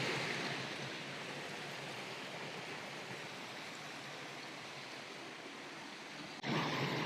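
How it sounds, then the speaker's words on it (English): Steady, dense rushing roar of a loud forest waterfall, a continuous broadband wash of falling water with no breaks, heard at a fair distance and without any talking. "Very loud waterfall."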